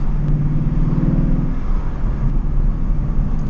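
A 2016 Mustang GT with a loud aftermarket exhaust drones steadily from inside the car, a deep engine rumble with a pitch shift partway through as it downshifts during a normal commute.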